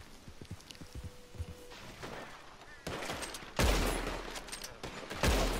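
Gunfire in Red Dead Redemption 2, a Wild West outlaw game: a few scattered shots at first, then louder, sharper bursts near the end, with faint hoofbeats and footsteps in the background.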